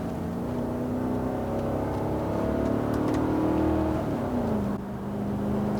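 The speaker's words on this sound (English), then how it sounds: "the transmission, like you can tell, it downshifts and upshifts pretty quickly" A 1980s Mercedes 560 SEC coupe engine hums from inside the cabin, its pitch climbing gently then stepping down as the automatic transmission shifts, a steady moderate drone without voices.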